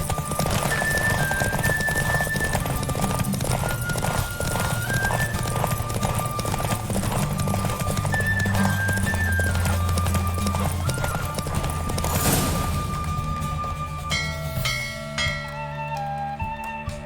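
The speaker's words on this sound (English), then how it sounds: "Don't spare the horse!" Rapid, rhythmic hoofbeats of a galloping horse during a race in The Witcher 3: Wild Hunt, loud and continuous, with music playing underneath and a whinny near the end.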